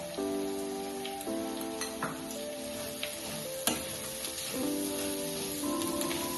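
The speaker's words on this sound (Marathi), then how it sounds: "आता ही आपली फोडणी होत आले।" Tempering for chitranna, with oil, turmeric and spices, sizzles steadily in a pan, a constant crackling fry with occasional light clinks and stirring taps, close and uninterrupted, with no voices.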